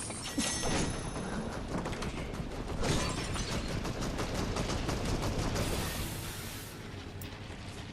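Rapid bursts of gunfire crackle almost continuously, dense and rattling like a firefight in Fortnite, with scattered louder shots throughout.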